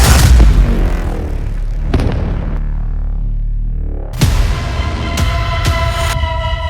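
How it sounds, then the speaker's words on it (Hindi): A single heavy boom from an Israeli strike in Lebanon bursts out and rolls away into a long rumbling decay, followed by a few sharper cracking impacts. "लेबनान में इजराइल के इस धमाके ने नेतन्याहू के इरादे साफ कर दिए"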